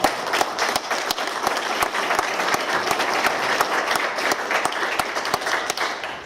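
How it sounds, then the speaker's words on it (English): An audience at a Ware County 2016 primary election forum for county commission candidates applauds, a thick, continuous patter of many hands with sharper individual claps standing out throughout, fairly loud and unbroken. "Let's give these candidates a round of applause."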